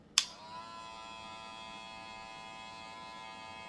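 A Wmark NG 119 hair clipper rated at 7,000 RPM switches on with a brief click, then runs with its lever open as a steady, faint electric buzz.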